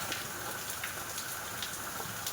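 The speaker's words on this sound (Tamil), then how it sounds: "மழை வேற சரியான மழை போ." Heavy rain falling on a residential street, a dense continuous hiss of drops hitting the ground, steady and close with no voices.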